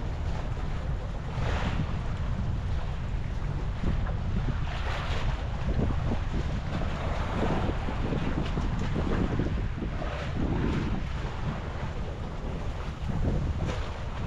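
Wind buffets the microphone over a steady low rumble of a boat moving across open water, with waves washing and splashing throughout.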